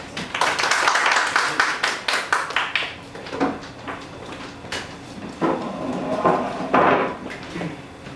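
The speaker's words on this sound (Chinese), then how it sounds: "我们就掌声欢迎。" A church congregation in Taiwan applauds to welcome Pastor Lin to the pulpit. Scattered, uneven hand claps fill the first few seconds and then thin out into a few fainter, sporadic claps.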